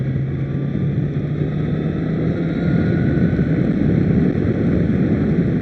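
A 2015 Honda Fireblade motorcycle engine drones steadily under road and wind rush, the note thickening and rising slightly partway through as revs climb. No one speaks.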